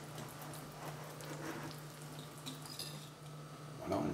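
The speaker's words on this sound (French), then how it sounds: "On continue à mélanger." Cake batter for an upside-down apple cake with yogurt being mixed in a bowl, faint soft scraping and light clinking of a utensil against the bowl, with a low steady hum behind it.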